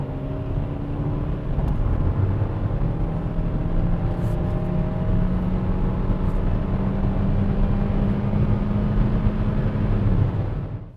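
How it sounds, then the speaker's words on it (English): A 2020 Kia Soul GT-Line cruises along a small country town road, producing a steady, continuous drone of engine and tire rumble with broadband road noise that holds level throughout before easing off at the very end. "Right now we're driving on a small country town road"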